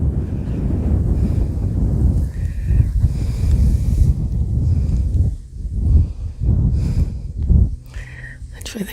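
Wind blowing across the grasses on a shell-filled levee, heard as heavy gusting rumble and buffeting against the microphone, rising and falling in bursts with brief lulls.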